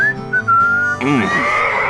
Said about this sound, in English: Here's some tunes to whistle on a lonely night.